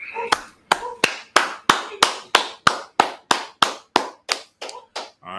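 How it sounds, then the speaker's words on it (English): A small audience claps together in about fourteen sharp, evenly spaced bursts, loud and close, with no talk over the claps. "Let's go ahead and clap it up."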